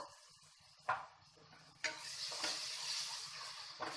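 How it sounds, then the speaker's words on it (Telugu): Ginger garlic paste frying in a pan during chicken curry preparation, with a soft continuous sizzle broken by a few sharp stirring scrapes, close and fairly quiet with no talking. "సో ఈ అల్లం వెల్లుల్లి పేస్ట్ బాగా పచ్చివాసన పోయేంత వరకు మనము ఫ్రై చేసేసుకుందాము"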